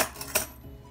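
A spoon stirs microwaved grits with added water in a bowl, giving a brief scrape and clink near the start, close and soft, followed by quiet.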